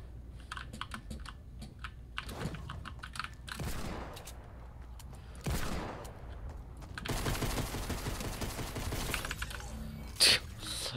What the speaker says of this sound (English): I just spammed the pistol.